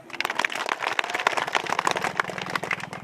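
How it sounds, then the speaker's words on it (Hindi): An audience claps and applauds at a political speech, a dense, continuous patter of many hands close by, sustained for a few seconds with a low hum underneath. "अगर नहीं है तो तालियां दीजिए फिर"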